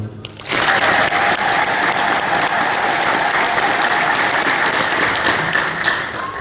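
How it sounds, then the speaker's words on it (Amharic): Loud, dense applause starts abruptly and carries on without pause, a large crowd clapping together with no talking. "እስቲ በሰላም ስላደረሰን የምትሉ አጨብጭቡ።"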